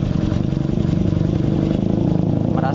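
A Honda Beat scooter engine idling with an abnormal sound, a loud, close, steady mechanical chugging with a fast even pulse that runs throughout.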